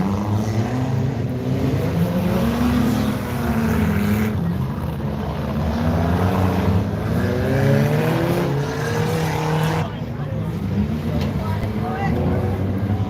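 Race cars lap a track during a kids' wheels race at the 73 Superglide, engines droning and swelling as they pass in repeated waves, with an announcer's voice over the loudspeakers.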